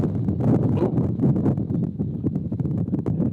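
Strong gusts buffet an outdoor microphone at a baseball game, a loud rumbling roar that swells and dips in uneven bursts with no talking.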